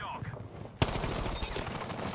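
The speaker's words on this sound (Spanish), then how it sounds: "Hay disparos por acá abajo, acá nomás" Gunfire in the Battlefield V shooter game: a sharp loud shot followed by a dense burst of rapid automatic fire with background battle noise, after a brief stretch of quieter ambience.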